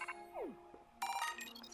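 A Pokemon Violet phone notification chimes softly: a quick descending electronic swoop, a short pause, then a bright, layered jingle of tinkling tones.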